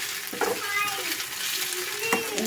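Onions for biryani sizzle in a pan while being stirred back and forth, a soft crackling hiss with scraping strokes, and a person talks over it.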